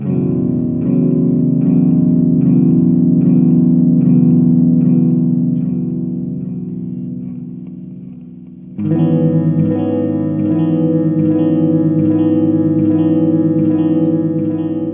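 Sustained electric guitar chords drenched in warped, wobbling delay and reverb from a BOSS DD-6 digital delay pedal's warp mode, swelling then dipping before a brighter, louder section kicks in.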